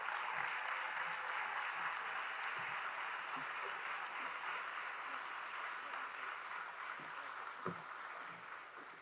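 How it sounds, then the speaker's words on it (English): A large audience at an NAACP annual convention plenary session claps steadily in a big hall, a dense, even wash of applause that fades slightly toward the end, with faint voices underneath. "Please stand on your feet and give him a round"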